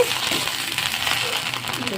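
Ghatkol leaf paste fries in a pan with a steady soft sizzle and crackle, close and continuous throughout.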